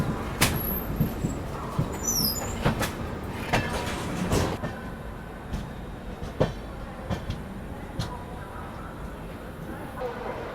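The ShivGanga Express passenger train pulls out of a station at night, with rhythmic clanks and rumbling wheel noise that stays steady throughout and voices faintly under it.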